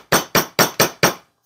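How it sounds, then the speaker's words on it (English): A chasing hammer strikes a wire bangle five times in an even rhythm, each blow a loud, sharp metallic hit with a short ring, close up and with no talk. "And then I'm going to hammer this one flat just to harden it as well."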